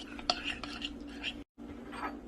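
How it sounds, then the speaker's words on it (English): A spoon clinks and scrapes against a bowl while chicken marinade of oil and spices is stirred together, a few light metallic taps then soft mixing, close and quiet with a brief cut of silence. "then mix my ingredients together"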